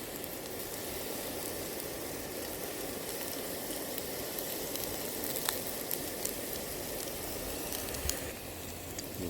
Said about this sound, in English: we'll fry these potatoes up